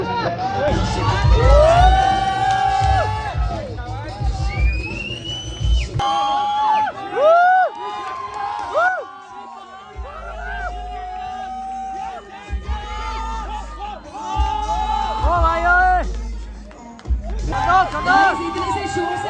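Crowd at a bodybuilding contest in Kullu cheering, shouting and whistling, loud and sustained with rising yells and bursts of applause-like roar, with an announcer's voice over the noise at times.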